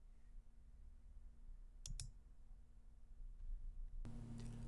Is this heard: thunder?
no